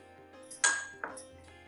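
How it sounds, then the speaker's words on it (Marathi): Two ice cubes drop one after another into a glass, each giving a bright close clink with a short ringing tail, quiet and set apart by about half a second. "पहिल्यांदा काचेच्या ग्लासमध्ये मी 2 बर्फाचे खडे टाकून घेते."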